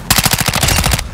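A loud, close burst of automatic fire from Call of Duty: Modern Warfare II, about a dozen evenly spaced rapid shots in roughly one second with no talk over it.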